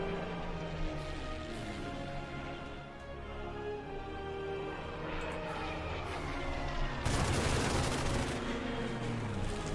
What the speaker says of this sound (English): Some heavy artillery.